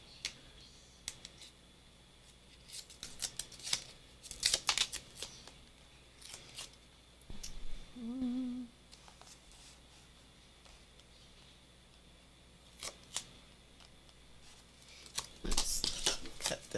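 Scissors snip through paper for a collage journal in a few crisp, close cuts spaced apart, with light paper handling and rustling between them.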